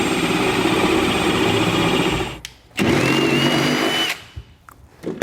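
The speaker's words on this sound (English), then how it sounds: "So now we're going to grab our 9/16 drill bit and enlarge each of our holes." A power drill with a 9/16-inch bit enlarges bolt holes in the frame of a 2019 GMC truck while a B&W fifth-wheel hitch base rail kit is installed. The close, loud, steady whir cuts out briefly twice and then resumes.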